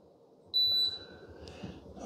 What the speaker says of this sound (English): It does beep at you when you first put it on.